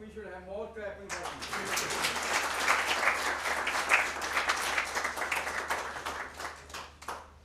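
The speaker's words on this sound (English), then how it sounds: "I think we should have more clapping." Audience applause fills a conference inaugural ceremony hall, a dense, sustained wash of many hands clapping that starts suddenly just after a voice and carries on steadily.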